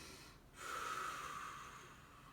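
A single audible inhale during a seated 90/90 hip mobility exercise, a soft, close breath that swells after a brief pause and then fades.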